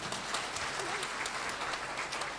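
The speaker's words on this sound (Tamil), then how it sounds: "இந்த குழந்தைக்கெல்லாம் நீங்க ஒரு கைதட்டு கொடுங்க" Applause from an audience for a child, a dense, continuous crackle of many hands clapping at an even level throughout.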